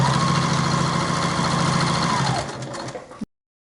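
A sewing machine runs steadily, stitching the seam of a bag pocket on a top panel, its motor hum and rapid needle chatter continuous and close, then slowing and stopping abruptly.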